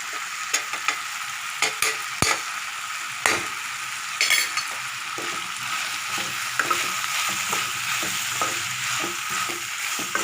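Ingredients sauté in a pan with asafoetida powder just added, a steady sizzle broken by sharp clicks and scrapes of a spoon stirring against the metal, close and without talk.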